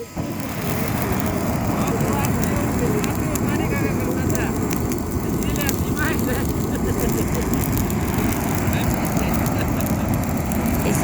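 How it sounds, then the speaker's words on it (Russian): At an outdoor campfire, a vacuum cleaner set to blow air gives off a loud, steady, roaring rush of wind that never breaks, with a person talking over it. "Если у вас нет возможности раздуть костер, то вы можете воспользоваться вот таким пылесосом."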